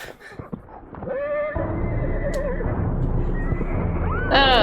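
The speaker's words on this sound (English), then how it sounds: "Darn horse." A horse in a film whinnies loudly and close, a long shaky neigh followed by hoof clops, and then another sharp whinny rises at the end.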